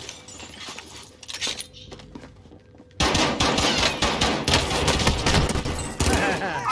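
Rapid automatic gunfire from the Call of Duty Warzone video game, sporadic shots at first, then a loud sustained burst of continuous fire filling the second half.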